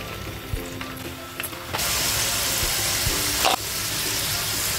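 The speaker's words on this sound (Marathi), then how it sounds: "बटाटे फ्राय करून घ्यायचे" Potatoes drop into hot oil for undhiyu, following yam and other tubers. A quiet background suddenly gives way to a loud, steady, close frying sizzle, with a few clicks and knocks and no speech.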